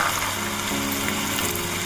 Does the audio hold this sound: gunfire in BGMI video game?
no